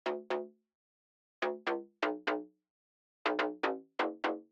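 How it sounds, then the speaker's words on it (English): FM-style synth bass from Serum filtered to its high end only, heard as quiet plucky bursts in pairs and groups with short decays, separated by silent gaps, rhythmic and alone. "So then layered with that, I have this FM sounding bass."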